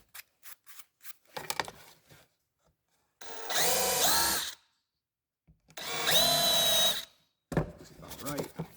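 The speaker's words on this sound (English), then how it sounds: "So I'm going to go ahead and countersink those 2 screw holes." Two screw holes are countersunk in the front bumper of a Kyosho Ultima RC car. A small power tool whines in two separate bursts of about a second each, close up, with handling clicks and light rustling between them.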